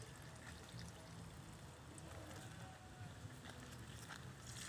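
Water pours steadily and continuously onto koro bean plants close by, a broad splashing rush with no voices.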